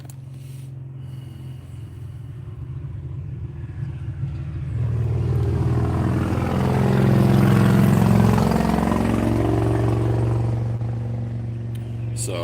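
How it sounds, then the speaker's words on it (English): A group of motorcycles rides past outdoors on a hot summer day. A low engine rumble swells over several seconds, peaks near the middle and then eases off as they go by. "sometimes there'll be like a motorcycle group and they'll come by"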